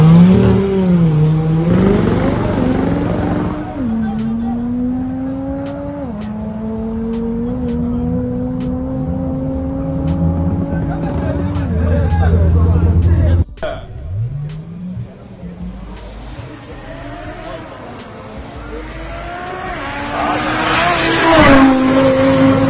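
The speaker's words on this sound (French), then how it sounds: "Première fois que je vois une RS3 patiner en 4 roues motrices" An Audi RS3 claws uphill on a hillclimb run with all four wheels spinning, its engine rising and falling through gear changes with a loud roar. A sharp break follows, then a more distant revving pass, with people talking over it.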